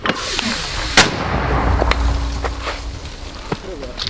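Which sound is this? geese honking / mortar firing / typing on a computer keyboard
mortar firing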